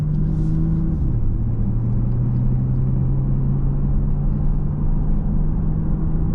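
From inside a 2024 Porsche Panamera 4S on the move, the engine gives a steady low hum with a brief gear-change dip in pitch, all under a constant road rumble and no talk.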